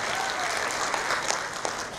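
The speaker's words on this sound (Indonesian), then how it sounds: "Mohon tepuk tangannya." A seminar audience gives a dense, steady wash of applause from many hands that holds at an even level throughout.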